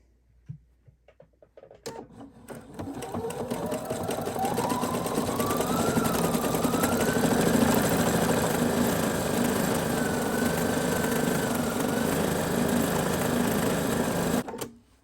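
A sewing machine runs steadily as it stitches a heart-shaped applique onto a T-shirt dress, starting after a few faint clicks and holding a close, continuous whirring hum for about twelve seconds before stopping abruptly.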